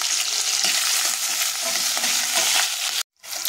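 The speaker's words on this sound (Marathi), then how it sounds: "आपली मिरची आणि लसूण छान असा भाजला गेलेला आहे." Green chillies and garlic fry hard in a hot pan, a steady loud crackling sizzle with stirring that drops out abruptly near the end before resuming.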